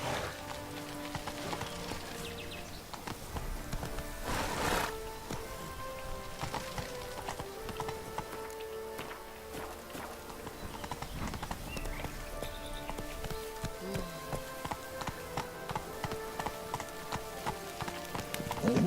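Geralt's horse galloping in The Witcher 3: Blood and Wine, rhythmic hoofbeats clopping at moderate level amid steady rain patter and background game sounds.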